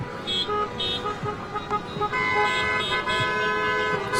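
Car horns honk in short toots and a long sustained blare at a street protest outside US Bank in Minneapolis over rent and mortgage freezes, loud and close, amid traffic noise with voices talking in the crowd.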